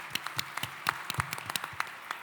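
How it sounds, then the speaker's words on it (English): Sparse clapping from a small audience at a conference presentation, a few dozen distinct claps over about two seconds, faint and somewhat distant. "Do you want to give them a round of applause?"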